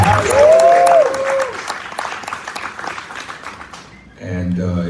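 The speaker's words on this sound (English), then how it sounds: "Let's give Until Freedom a round of applause." A rally crowd bursts into applause, loud and dense at first, then thinning into scattered clapping before a voice begins speaking.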